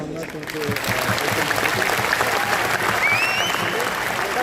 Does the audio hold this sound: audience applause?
yes